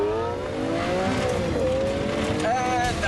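A Lamborghini Aventador accelerates hard from a standstill. Its engine roars loudly and rises in pitch through the gear, with a brief shift near the end and possible tire noise.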